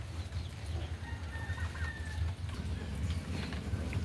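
Free-range chickens cluck on a goat farm during the rainy season, scattered short calls moderately close over a steady outdoor background.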